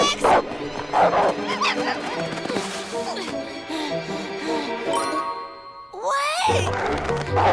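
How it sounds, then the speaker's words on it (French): A cartoon dog barks and yips in short bursts over background music and other voices, with jingling sounds near the end. "Tu sais parler le chien, Férocia?"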